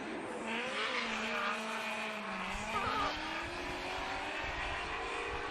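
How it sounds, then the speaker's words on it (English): A Ford Mustang drift car on Falcon tires runs a Formula Drift qualifying course in Texas, its engine wailing with sweeping revs and tyre noise, heard at a distance beneath crowd ambience. "And here comes JTP, Justin Pollock, Roush Performance, Falcon Tires, Ford Mustang."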